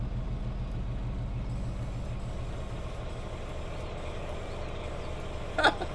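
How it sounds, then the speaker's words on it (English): A truck in Farming Simulator 19 idles with a low, steady engine rumble, then its air brakes release a short, sharp hiss near the end. "I didn't notice that this truck has those, the air brake sound."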